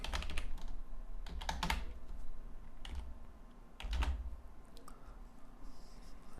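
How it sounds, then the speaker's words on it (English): Keys clatter on a computer keyboard while text is typed into a Dreamweaver web page, with quick uneven bursts of close clicks separated by brief gaps and a low background hum. "I type in some text because my div tag would collapse without content"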